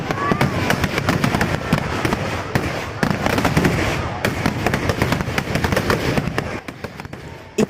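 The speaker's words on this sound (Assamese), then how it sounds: "বহুত হাজাৰ বোমা একেলগে লগাই দিয়া হয়" Thousands of firecrackers set off together in a wide open farm field at a festival: dense, continuous crackling bursts that pop rapidly and loudly for the whole stretch, with voices faintly underneath.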